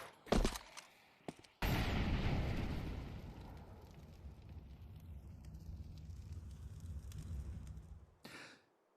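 An incendiary grenade bursts into fire in a Counter-Strike match, a few sharp clicks followed by a sudden whooshing ignition and a steady roaring, crackling burn that slowly fades before a brief final burst.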